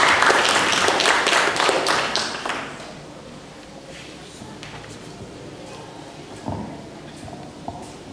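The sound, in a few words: audience applause for a speaker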